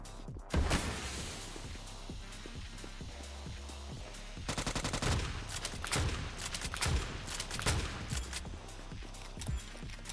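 Loud bursts of automatic gunfire from the shooter Scarfall 2.0 during a ranked match on the Andaman map, with rapid volleys separated by short pauses and single sharp shots in between.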